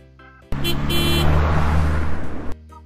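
A cartoon car sound effect in a children's writing lesson, a bright two-second burst of engine revving with honk-like tones that starts abruptly and cuts off cleanly, loud and alone.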